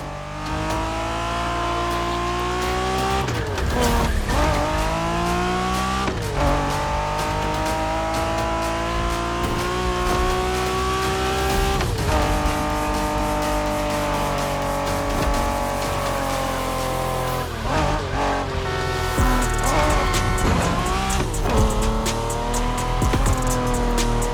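Honda NSX sports car racing in the video game The Crew, engine revving and rising through gears with repeated shifts, tires squealing at moments, loud and continuous with no talking.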